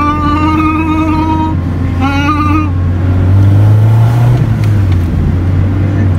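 A Honda Civic EG with a single-cam VTEC engine and CTP pistons idles loudly up close, then revs up and climbs in pitch before settling back down, with no talk over it.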